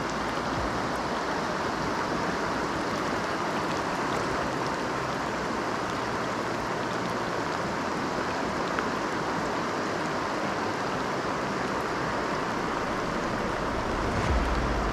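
High, fast water in the Norwegian salmon river Surna or Orkla rushes in a constant, dense roar with no break, loud and close throughout.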